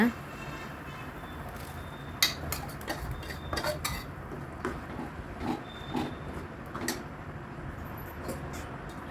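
A spoon scrapes and clinks against a metal pot while ground paste is stirred into a simmering vegetable kurma, with sharp intermittent knocks over a soft bubbling background.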